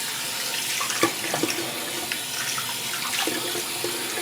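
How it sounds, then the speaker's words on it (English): Water runs from a tap into a sink for a quick rinse after shaving, a soft steady trickle with small splashes and drips close by, and no voice over it. "let me do a quick rinse."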